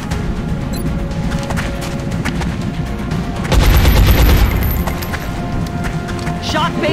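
Gunfire in the turn-based tactics game XCOM: Enemy Within: a run of shots and bursts over steady game ambience, swelling into a louder, denser volley near the middle before easing back, with voices talking over it.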